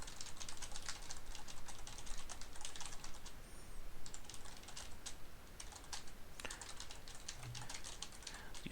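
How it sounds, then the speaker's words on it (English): Rapid, continuous typing on a computer keyboard, a dense patter of light key clicks with a few short pauses, fairly close and alone without voices. "Using my fast typing skills."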